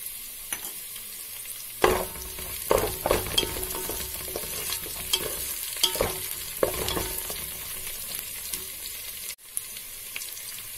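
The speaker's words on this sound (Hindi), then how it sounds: "प्याज थोड़े देर भुनने के बाद" Onions fry in a pan for vegetable biryani with a continuous sizzle, and repeated spatula scrapes and taps mark the stirring. A brief dropout comes near the end, and no one talks.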